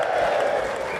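A studio audience keeps up a dense, steady wash of applause and cheering throughout, close and loud, with no individual voice standing out.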